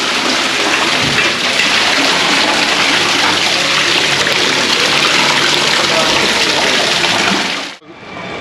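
Water from a natural mountain spring pours steadily into bottles, making a loud, dense rush that runs without a break for several seconds before it cuts off abruptly near the end.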